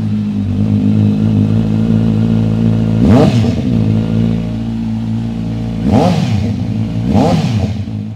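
A Kawasaki Z900 inline-four superbike fitted with an SC aftermarket exhaust idles with a steady burbling drone, then blips the throttle three times into sharp rising revs that drop back to idle.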